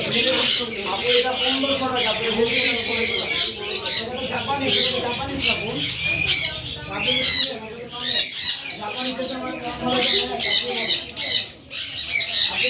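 Loud, overlapping squawks from a yellow parrot and other caged birds fill a busy bird market at Mirpur 1 hat, the calls dense and constant under people talking nearby.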